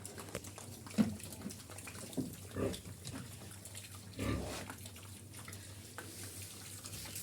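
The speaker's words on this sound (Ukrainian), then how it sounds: "Ось цим поросятам насипав корму" Piglets grunt and snuffle intermittently up close while eating feed, with occasional squeals and rustling as they root around, against a quiet hum in the background.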